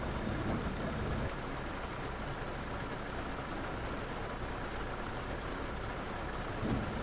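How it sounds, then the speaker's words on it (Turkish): Steady rain pours down in the bus-driving game The Bus, a continuous dense hiss of drops drumming on the vehicle at a constant moderate level, with no voices. "Ne yağmur yağıyor be."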